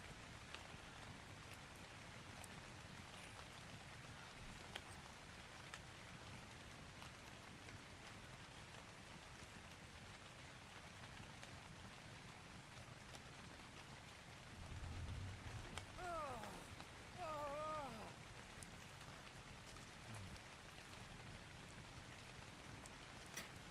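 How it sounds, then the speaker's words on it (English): Steady rain falling in the survival video game ARK, a continuous faint hiss of drops throughout, with a few soft low creature calls briefly surfacing midway. "The other good thing about the weather being raining is that we don't have to keep filling up our food because rain fills up our water bar."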